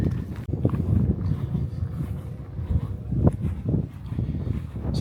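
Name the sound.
strong wind with gusts outdoors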